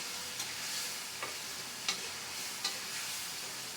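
Fish sautéed in a spice paste in a pan, giving a soft continuous sizzle broken by a few sharp scrapes of a spatula.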